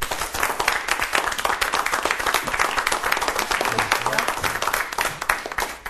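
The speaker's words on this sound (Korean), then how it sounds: "큰 박수로 맞아주시기 바랍니다." Steady, dense applause from a large lecture audience welcoming a speaker, continuous and loud throughout without a break.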